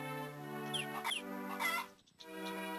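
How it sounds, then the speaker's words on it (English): Chickens in Harvest Moon: Friends of Mineral Town cluck in a few quick chirpy calls over a sustained tonal game melody, clear and close, with a brief dropout near the end. "You guys are gonna hear a lot of chicken sounds, by the way, over the next, like, 2 mines."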